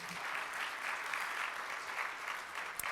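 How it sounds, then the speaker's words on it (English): An audience at a Rotary meeting gives a round of applause, a steady, moderately loud wash of clapping that lasts the whole few seconds. "Let's give her a round of applause."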